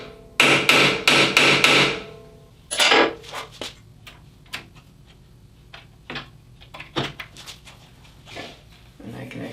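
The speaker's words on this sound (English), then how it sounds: "I just use my center marking tool" A center marking tool strikes the metal table of a Hammer N4400 band saw in a quick burst of sharp, close metallic taps, followed by scattered lighter knocks and clicks, with speech heard at times.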